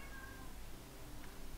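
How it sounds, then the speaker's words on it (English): A house cat meows faintly in the background, a short, quiet call within a low hum of room noise. "I apologize for the cat meowing on the background as usual."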